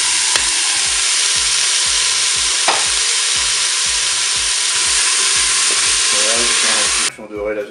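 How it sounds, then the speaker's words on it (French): Mini chorizo and vegetables fry steadily in a Cookeo multicooker, a loud continuous sizzle with faint stirring clatter, cutting off abruptly near the end. "ça fait 1 minute que mon mini chorizo est en train de dorer"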